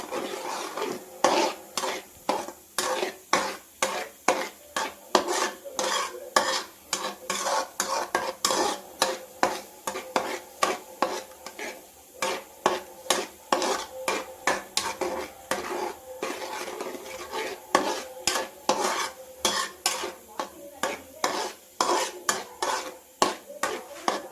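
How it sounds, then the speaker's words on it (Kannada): Egg being fried and stirred in a pan, with a steady run of quick metallic scrapes and taps of a utensil against the pan over a soft sizzle, close and continuous with a regular rhythm. "ಇದು ಸಹ ಚೆನ್ನಾಗಿ ಫ್ರೈ ಮಾಡ್ಕೋತಾ ಇದ್ದೀನಿ."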